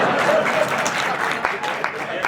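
Audience applause at a Hindi poetry recital, a steady wash of clapping from a crowd that runs throughout, with a voice faintly audible beneath it.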